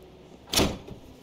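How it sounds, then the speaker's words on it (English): A door opens in the video game Minecraft Story Mode with one short whooshing burst, moderately loud and alone. "Bam! Door open."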